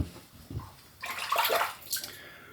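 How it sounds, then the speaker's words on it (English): Water runs from a leaking bathroom sink in a short, fairly faint splashing burst lasting about a second, after a quiet stretch. "Sorry guys, my sink seems to be leaking."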